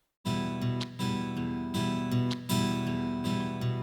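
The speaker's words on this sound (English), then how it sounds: "this guitar cut noise sound." A synthesized guitar tone plays sustained, buzzy notes with a few sharp scraping accents, continuous and fairly loud, with no voices.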